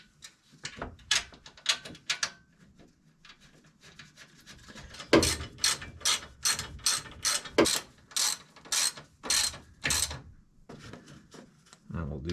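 A ratchet tightens 10mm bolts on a Geo Tracker radiator during a swap, giving bursts of quick close clicking strokes, with a dense run of loud rhythmic clicks in the middle and a faint voice early on.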